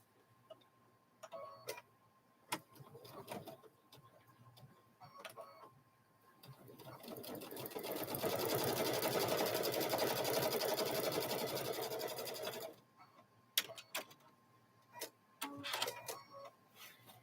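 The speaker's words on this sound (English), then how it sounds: "I'm going to stitch that up. We're going to stitch that closed." A sewing machine stitches a quilted Grinch handbag opening closed, running in a steady loud rattling burst of about five seconds, framed by scattered clicks and short handling taps before and after.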